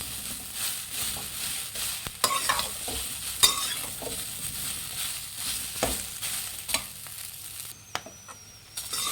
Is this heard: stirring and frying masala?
yes